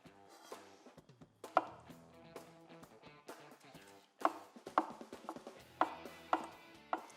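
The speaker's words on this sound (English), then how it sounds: "I recommend that you cut the eggs up into big chunks, too." A knife cuts boiled eggs into big chunks for an American potato salad, landing as a series of sharp, close taps on a board in an uneven rhythm with brief pauses between strokes.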